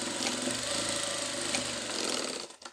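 A sewing machine stitches the shoulder seams of a fabric dog bathrobe, running in a continuous close, busy whir before stopping abruptly near the end.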